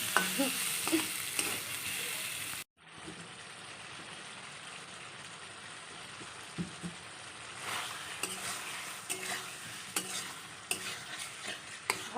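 Egg curry masala sautéed in a pan, with a steady low sizzle under repeated scraping and clinking of a spoon, close by, a brief cutoff early on, then stirring continuing with no voices.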